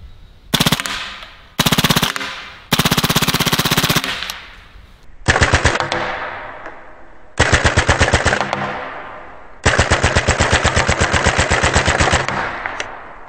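A Hatsan Blitz full-auto .30 caliber air rifle fires at a 2x4, letting off about seven rapid bursts of sharp, evenly spaced shots, some short and some sustained, with brief pauses between them. The shots are loud and close.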